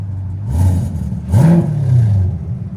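A 2021 Chevrolet Corvette C8 6.2L V8 with an aftermarket exhaust idles then blips its revs twice, with a raspy exhaust burble and light rattling from the exhaust valves close by.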